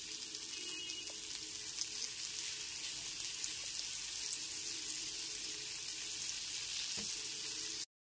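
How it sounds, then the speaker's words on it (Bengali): Chopped onion frying gently in butter in a pan over a low gas flame, a steady soft sizzle running evenly throughout, close by, with no talking. "গ্যাসের ফ্লেমটা লোতে রেখে পেঁয়াজটাকে হালকা করে ভেজে নিতে হবে"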